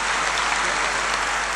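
Audience at an outdoor folk literature gathering under a packed pavilion breaking into steady, dense applause, a continuous wash of clapping for the whole short stretch.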